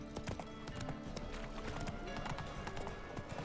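Hooves of a galloping horse in The Witcher 3 clip-clop in a quick, steady beat throughout, fairly faint, with game ambience and a hint of voice beneath.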